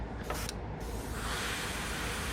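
Aerosol spray paint hissing onto a shad-pattern fishing lure through a stencil: a steady, close, continuous hiss that begins partway through and holds to the end, with a couple of faint brief puffs before it.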